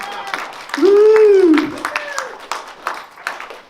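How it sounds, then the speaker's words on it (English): An audience applauding at an outdoor spring gathering: a patter of many hands clapping throughout, topped early by one voice letting out a long, loud whoop. "Give yourselves a round of applause."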